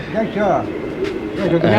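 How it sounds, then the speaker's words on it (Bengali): Pigeons coo in short, repeated throaty bursts at a busy pigeon market in Sarulia, close by amid the chatter of people talking. "এখানে কবুতর বেচা কেনা চলছে"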